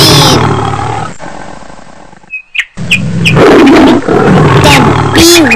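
A tiger roars loudly in a toy jungle play scene, in several bursts with a short pause, with some chirpy bird-like sounds mixed in.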